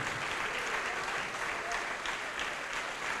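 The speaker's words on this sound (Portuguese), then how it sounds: "Dê uma salva de palmas" Steady, dense applause from a church congregation during a sermon, filling the whole stretch as sustained, even clapping without pauses.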